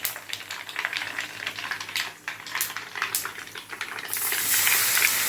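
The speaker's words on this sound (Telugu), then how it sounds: "స్టవ్ ఆపేసి ఈ తాలింపుని చట్నీలో వేద్దాము" Hot tempering sizzles and hisses steadily as it is poured into a tomato and mango-ginger chutney with some stirring, then the hiss swells louder and brighter near the end as the mixture fries.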